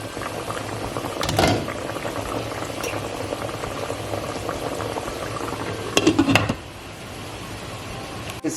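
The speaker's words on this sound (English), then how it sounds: "As you can see, it has come to a boil" Keto beef carnitas boil in a covered pot on the stove, a steady bubbling churn that holds throughout, with a couple of brief clinks of a lid or utensil near the middle and end.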